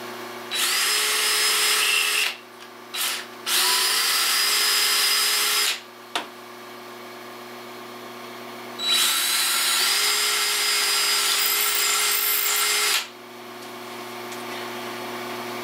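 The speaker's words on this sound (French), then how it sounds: "L'important, c'est de ne pas pousser trop fort avec la perceuse pour ne pas faire éclater des morceaux de bois à l'intérieur." A power drill bores out the inside of a wooden vase turning on a lathe, running loud in long whining bursts separated by brief pauses, close up and without talk.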